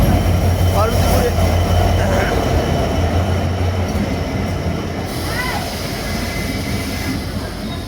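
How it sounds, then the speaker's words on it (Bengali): The Titumir Express pulls into a railway station with a loud, steady rumble of wheels on track, faint squeals and clatter, while voices murmur nearby on the platform. "তিতুমির এক্সপ্রেস ট্রেন চলে এলো।"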